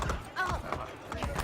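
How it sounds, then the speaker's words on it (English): Horse hooves clip-clop under a rider in Assassin's Creed Brotherhood, a quick run of close, muffled hoofbeats lasting under two seconds, with a brief whinny-like tone in the middle. "I always ride my horse on this one."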